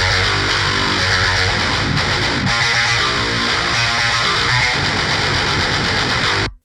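A loud, heavily distorted electric guitar plays a chugging riff with sustained chords, dense and continuous before cutting off at the end.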